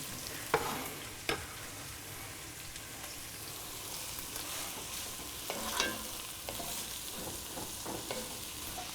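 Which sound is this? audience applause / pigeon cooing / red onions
red onions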